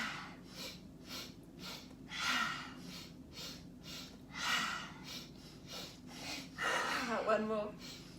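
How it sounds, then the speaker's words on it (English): Children and an instructor in a kids' yoga class take short, quiet sniffs in through the nose, repeated in brief bursts and followed by soft breaths out, under a calm speaking voice. "So 3 sniffs in through your nose."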